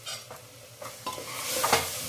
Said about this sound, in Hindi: और इसे हम भूनेंगे धीमी आंच पर।